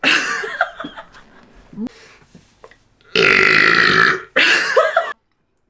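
A woman lets out deep burps, a long loud one followed by a second after a short pause, preceded by some laughing and breathy sounds.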